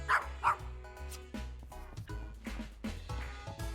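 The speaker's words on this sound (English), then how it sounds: "That dog's name is Barksy" A dog barks in the video game YIIK, with two sharp close barks followed by softer yips and whimpers over a low, steady game soundtrack.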